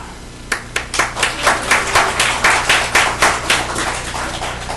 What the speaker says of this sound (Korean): 은혜빛교회 박수 한번 하입시다